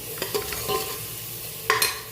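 Potatoes fry in a spiced tadka for an aloo pakora curry, a close gentle sizzle broken by a few quick stirring scrapes of the spoon.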